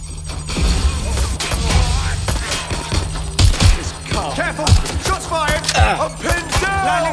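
Rapid bursts of gunfire crackle through a firefight in the video game Watch Dogs Legion, with sharp repeated shots over a busy, loud mix and voices calling out between them.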